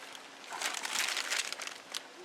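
Large plastic bag holding a deer head being tied off, giving a close burst of crinkling and rustling that swells in the middle and trails off over about two seconds.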